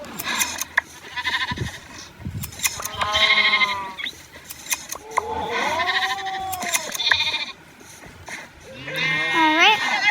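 Sheep in Minecraft bleat repeatedly while being sheared, wavering cries rising and falling over a steady game background, with a person talking throughout.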